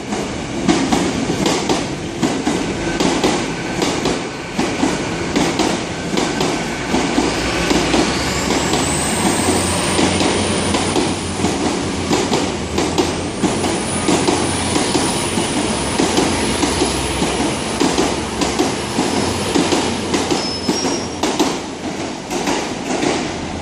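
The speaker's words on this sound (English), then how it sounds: "here we got another IET passing by" An IET intercity express train passes by on the Great Western Main Line at Exeter St David's, a loud sustained rumble with rhythmic wheel clatter and a thin high whine over about twenty seconds.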